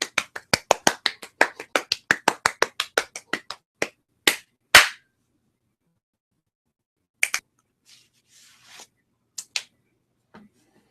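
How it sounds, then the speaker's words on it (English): Applause at a live impressions performance, a burst of quick claps that thins to a few scattered claps and then falls silent. "Round of applause for John PB."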